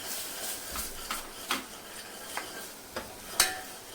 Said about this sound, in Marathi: त्यानंतर हळद आता मिक्स करायचे